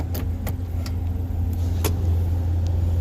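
A car rolls slowly forward while parking, a low steady engine hum and road rumble with a few soft clicks and taps from inside the cabin, close and continuous, no talking.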